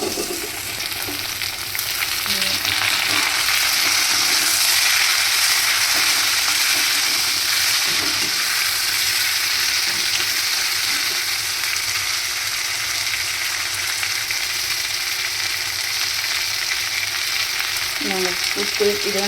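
Tomatoes and onions sautéing in a pan over a high flame, a steady close-up sizzle and crackle holding for the whole stretch, with a few light stirring scrapes near the end.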